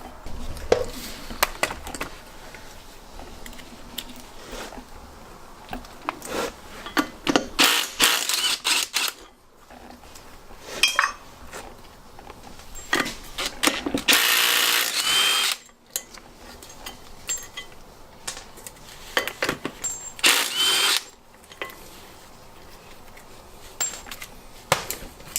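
Bolts come off a brake rotor being separated from its hub on a Datsun 280Z front brake, heard as several short, loud bursts of tool whirring and metallic clanks with clicking handling noises between them and no talking.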